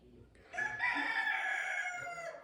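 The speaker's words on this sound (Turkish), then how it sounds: "horozlar fırsat vermiyor bana konuşmaya." A rooster crows loudly and close by in a village near Gaziantep, Turkey, one long drawn-out call with a rising start and sustained harmonic tail.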